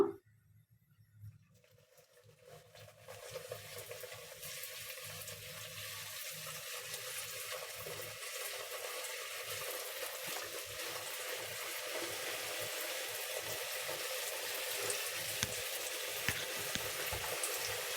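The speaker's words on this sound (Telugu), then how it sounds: "ఆయిల్ హీట్ ఎక్కింది ఇప్పుడు మనం చూడండి కర్జికాయలు ఇలా ఒక్కొక్కటిగా వేసుకుందాము" Vegetable-stuffed kajjikaya pastries fry in hot oil in a pan, a steady broadband sizzle that swells after a quiet start and holds loud and continuous, with no talking.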